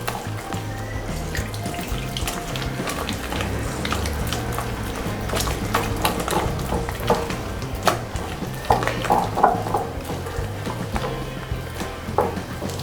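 Batter for mirchi bajji stirred by hand in a bowl, a continuous wet squelching and slapping with a soft irregular rhythm, close and fairly loud.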